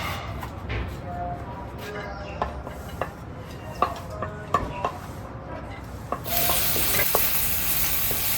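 Onion cooking in a small amount of oil in a pan, a soft steady sizzle punctuated by sharp utensil taps and scrapes, growing louder and hissier near the end, with faint speech.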